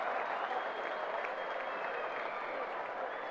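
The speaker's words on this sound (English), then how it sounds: "Crowd's happy here in Hamilton as New Zealand complete a very comprehensive win" Stadium crowd in Hamilton applauding and cheering after New Zealand's comprehensive win over Vanuatu in a FIFA World Cup 2026 qualifier, a steady wash of clapping throughout, moderately distant.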